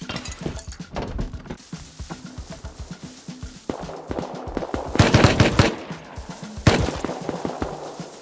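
Rapid automatic gunfire and single shots in the survival game Rust on a large multiplayer server, sharp loud bursts in uneven clusters with a few pauses, no talking.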